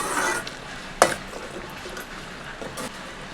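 A pot of dried fish kuzhambu with eggplant and broad beans simmers and bubbles, with a soft, steady hiss and low crackle, one brief clatter of a spoon or lid near the one-second mark.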